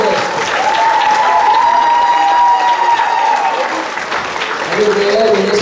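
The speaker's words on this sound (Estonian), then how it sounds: "Kaks suurt aplausi." Audience clapping at a high school lip-sync playback show, a loud sustained burst of applause with some cheering, while a voice talks over it.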